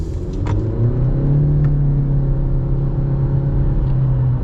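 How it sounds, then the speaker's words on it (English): A 2021 Honda CR-V EX-L with a CVT accelerates hard, its engine holding a steady droning rumble with road noise from inside the cabin, loud and continuous with no voices. "And then we'll get our full-blown acceleration here."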